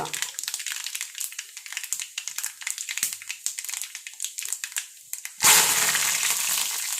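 Mustard seeds crackle and pop in hot oil for a Kerala mango pulissery tempering, a dense run of quick snaps that turns into a loud, steady sizzle near the end.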